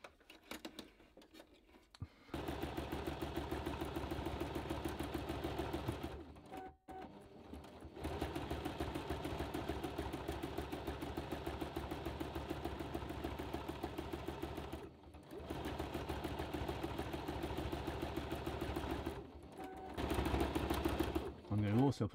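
A Toyota Oekaki 50 sewing machine stitching free motion embroidery, running in long steady buzzing stretches broken by short pauses, with a low hum and faint background bird chirps.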